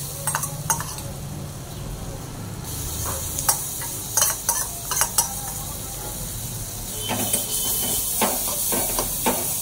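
Carrot pieces fry in butter in a pan, a steady sizzle and hiss broken by a series of sharp scraping, clattering stirs of a utensil against the pan, close up with no voice.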